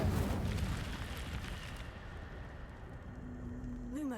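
Incendio fire spell cast in the Hogwarts Legacy video game: a loud whooshing burst of flame that fades into a low rumbling roar, with a faint rising tone near the end.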